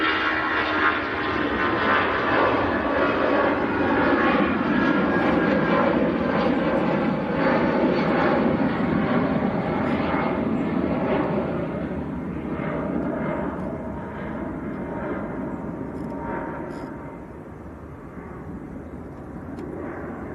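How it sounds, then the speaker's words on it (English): An EasyJet airliner bound for Geneva climbs away from Manchester Airport, its engines giving a loud, steady roar that fills the whole span and fades slightly toward the end. "EasyJet to Geneva, just getting airborne."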